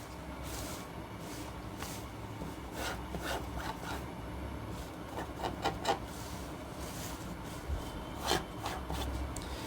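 Fingernail scraping and pressing a crease into shirt fabric during sewing, a series of faint, close, dry rubbing strokes in quiet surroundings.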